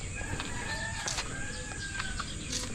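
Darag chickens on a Philippine farm cluck and call in the background, a scatter of short, moderately distant clucks and squawks over a steady outdoor hum.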